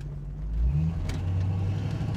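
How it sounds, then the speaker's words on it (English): A 1969 Ford Mustang's exhaust gives a low, steady rumble while driving, with a mild rise in engine note, heard close and without talk. "It's got a nice exhaust system on it. She's got a little bit of a rumble"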